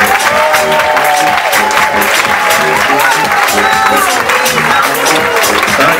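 A festive event crowd applauds loudly for its guest of honour, Vincent McDoom, with continuous dense clapping, scattered cheers and whoops, and music playing underneath.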